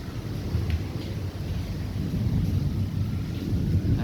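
Thunder from a lightning storm rolls as a continuous deep rumble, with wind and rain noise roughing up the sound throughout and no voices.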